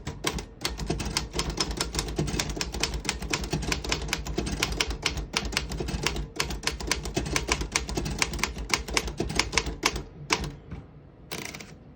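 A 1940 Royal KMM vintage desktop typewriter types in rapid, continuous mechanical keystrokes, each key striking sharply with steady clatter for about ten seconds before slowing to a few final taps.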